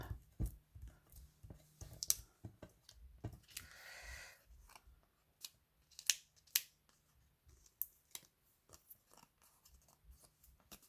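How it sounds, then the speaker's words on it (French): Scissors snipping the excess plastic around a sticker, a series of sharp, irregular close-up clicks and snips with quiet gaps between them. "Découper le plastique du sticker, ce qui dépasse."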